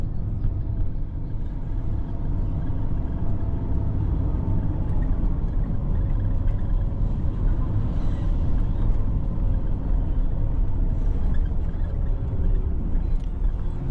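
A small car drives on a village road near Lake Victoria in the low rainy season, producing a steady, loud, continuous engine rumble and road noise from inside the vehicle, with no talking.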